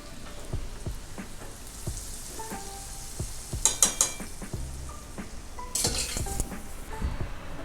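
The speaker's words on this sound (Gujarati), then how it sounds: "દાળમાં આપણે તડકો લગાવી દઈશું." Hot tempering (tadka) spluttering as it is poured into dal for dal pakwan, with a few sharp sizzling bursts and crackles over light clinks of a metal pot and utensils.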